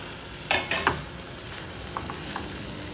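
Potatoes and cauliflower drop into frying masala for a Jain-style mixed vegetable dish without onion or garlic, the steady sizzle punctuated by several quick spatula scrapes and clacks as they are stirred.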